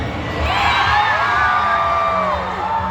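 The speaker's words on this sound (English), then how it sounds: "everybody cheer" A large crowd at a VidCon 2025 Fourth of July event cheers, whoops and yells continuously, with children's shouts rising over a steady roar of voices.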